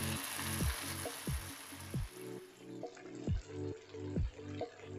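Battered cauliflower pieces sizzling steadily in hot oil, with a continuous frying hiss broken by a few sharp bubbling bursts as pieces settle, close and moderately loud, no talking.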